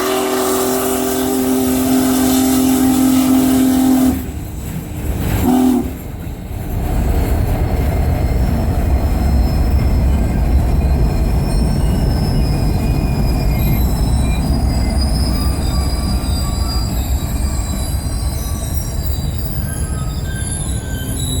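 Union Pacific Big Boy 4014 steam locomotive and its train roll past near the Highway 58 overpass at Barstow, California, loud and close. Wheels squeal and rumble with rhythmic clatter, broken by a brief dip before the heavy rolling noise continues steadily.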